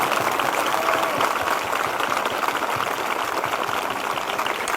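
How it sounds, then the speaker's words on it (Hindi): A church congregation at a live prayer service claps together loudly, a dense steady wash of applause holding from start to finish with no talk over it. "जिनके हो चुके हैं वो जोरदार ताली बजाकर धन्यवाद दें।"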